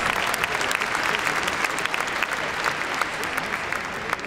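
Steady, full crowd applause at a Crufts gundog display, a dense wash of many hands clapping continuously, with no voices over it.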